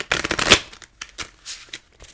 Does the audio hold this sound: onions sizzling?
no